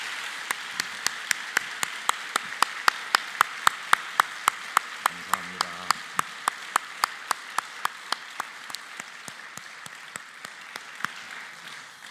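A church congregation applauding during a special dawn prayer service, steady mid-level clapping from many hands filling the hall throughout, with a brief spoken word of thanks over it.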